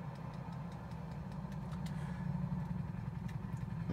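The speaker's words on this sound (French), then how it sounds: "on va prendre ma moto." A motorcycle engine idles with a low, steady rumble that grows slightly louder toward the end, heard in the video game Call of Duty: Ghosts with no talk over it.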